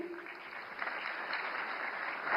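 An audience applauds a singer at the opening of the Marathi literary conference in New Delhi, a steady wash of clapping held at a moderate level that swells slightly toward the end.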